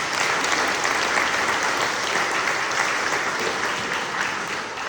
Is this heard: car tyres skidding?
no